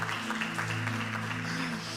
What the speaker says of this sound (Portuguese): uma salva de palmas para Laís Andrade, senhores.